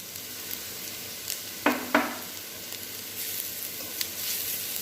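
Ginger garlic paste sautés with softened onions in a pan with a soft, continuous sizzle, and two sharp clinks of a stirring utensil come in quick succession partway through.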